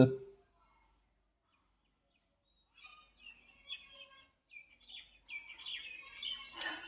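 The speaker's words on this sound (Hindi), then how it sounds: "इतनी कोयल" Several koels call at a quiet, peaceful spot, faint distant chirps and whistled notes that grow more frequent toward the end, following a brief voice at the start.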